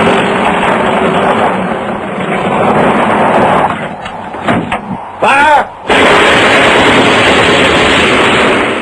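A weapon fires in a science-fiction audio drama set aboard a ship, heavy booming discharges and a sweeping burst breaking through a dense, loud roar of background noise.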